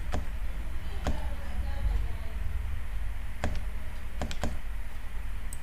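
An OTP is typed on a computer keyboard: a handful of sharp, isolated key clicks, one or two at a time and some in quick pairs, over a quiet room hum.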